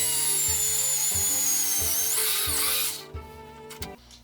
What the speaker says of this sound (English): Now this is a single speed drill.